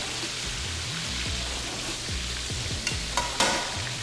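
Potato frying and being stirred in a pan over high heat, a steady loud sizzle with repeated scraping stirs and a few sharp clinks near the end.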